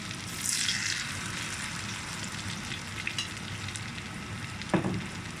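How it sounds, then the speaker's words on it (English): African bean cake frying in a pan, a continuous close sizzle with soft bubbling and spitting, a couple of sharper pops rising above the steady hiss. "you just let it bubble away, and that will cook"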